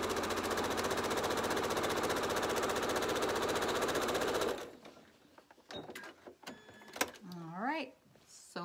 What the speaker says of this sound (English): so sewing that second side up